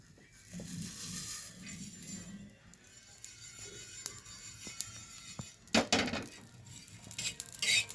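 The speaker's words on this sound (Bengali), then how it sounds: "শুকনো খোলায় সব জিনিসগুলোকে ভালোভাবে নাড়াচাড়া করে নিয়েছি।" Whole cardamom, cloves, cinnamon, coriander seeds and cumin dry-roasting on an iron tawa, stirred with a utensil that gives quiet scrapes and scattered metallic clinks, busier toward the end.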